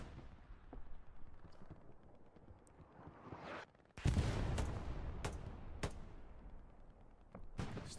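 Gunfight in Hell Let Loose at Stalingrad's train station: scattered distant rifle and machine-gun shots, then a sudden loud blast followed by sharp close shots cracking over a rumbling battlefield bed.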